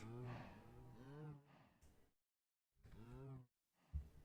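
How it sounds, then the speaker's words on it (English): A Minecraft cow moos several times, low drawn-out calls with short breathy grunts between them, quiet and alone. "Did you put a normal cow in here somewhere, Dragon?"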